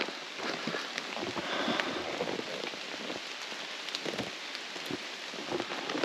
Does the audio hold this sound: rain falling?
yes